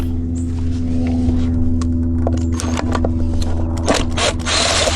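A power drill whirs steadily over a constant mechanical hum, with brief clicks and bursts as the bit removes 9 mm nuts from a 25 hp two-stroke Mercury outboard's starter solenoid, close and loud.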